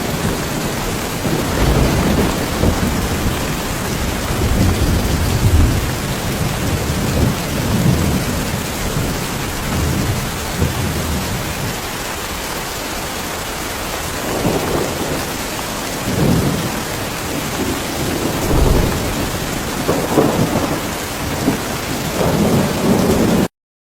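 Heavy rain pours down in a dense, constant hiss, with deep rolls of thunder rumbling repeatedly underneath, loud and close for the whole stretch.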